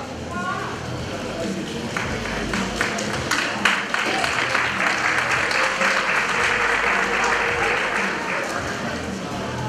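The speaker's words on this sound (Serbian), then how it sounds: "a jedan veliki aplauz za naše medijske pokrovitelje" A large audience at a bodybuilding and fitness competition, the IBFF Serbia Open 2016, breaks into sustained, dense applause with crowd noise and scattered cheers. It is loud and continuous throughout.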